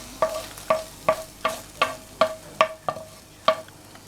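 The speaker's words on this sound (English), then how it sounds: "what we're going to do now is give that a stir" Garlic and mince are stirred in a preheated slow cooker, a spoon scraping the pot in about ten regular, clear strokes with a soft ringing clink on each, close and alone without talk.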